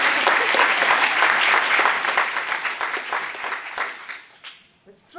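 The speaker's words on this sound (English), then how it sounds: "It's thrilling to have applause for an introduction." A lecture audience applauds to welcome a speaker, a dense, sustained wash of many hands clapping that holds steady, then thins and fades toward the end, where a voice briefly begins to speak.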